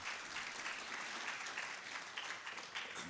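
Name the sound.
applause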